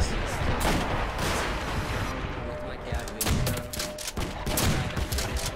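Rapid bursts of gunfire in Call of Duty: World at War, including a trench gun, with dense overlapping shots and booms, loud and near, continuing steadily while a player speaks over it.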